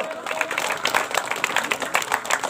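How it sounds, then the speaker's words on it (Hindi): Crowd applause at the opening ceremony of a knockout football tournament, a steady dense patter of many hands clapping continuously throughout, moderately loud and fairly close. "तालियां बजती रहनी चाहिए दोस्तों तालियां बजती रहनी चाहिए"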